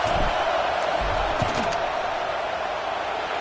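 A stadium crowd in a college football video game, Vanderbilt against Texas A&M, roars in a steady, dense wash of noise ahead of a field goal try, with a commentator speaking over it.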